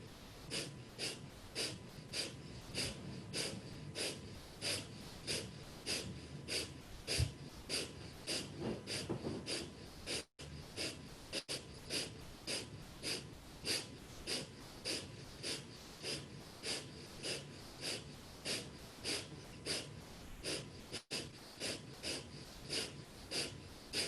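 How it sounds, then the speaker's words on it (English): Rhythmic, forceful nasal breathing in a yoga session, pumped gently in a steady, even series of sharp inhales and exhales through the nose, close and continuous with no talking. "you're going to kind of pump the breath gently, not a full expression of breath of fire, but a little forceful inhale and exhale through the nose"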